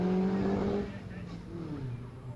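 A supercharged MG PA vintage racing car at a hillclimb, its engine note droning loud then easing slightly as it pulls away, with a commentator's voice faintly underneath.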